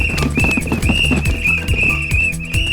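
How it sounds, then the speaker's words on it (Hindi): In a film scene, people blow whistles like traffic police while circling around, making repeated shrill blasts over busy, thumping background music. "ट्रैफिक पुलिस की तरह सीटी बजा रहे हैं घूम घूम कर।"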